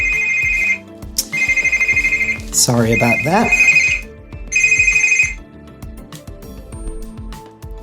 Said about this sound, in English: Just had a phone call, which I'm not going to take.